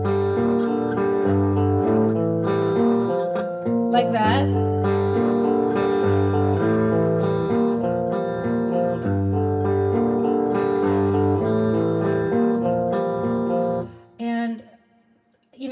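Distorted electric guitar played dry without reverb, sustained chords and notes slightly muffled by the backs of the fingers, ringing steadily before cutting off near the end, with a brief spoken phrase.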